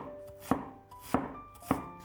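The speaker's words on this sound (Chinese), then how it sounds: "山药去皮之后，给它切成薄片，这里切薄一些更容易蒸熟。" A knife cutting peeled Chinese yam into thin slices on a board, three crisp, evenly spaced chops sounding close and clear against a quiet background.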